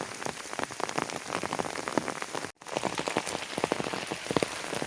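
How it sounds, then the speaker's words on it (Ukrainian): Steady rain patters densely on a surface nearby, with individual drops tapping throughout and a brief dropout midway. "Дощ пішов."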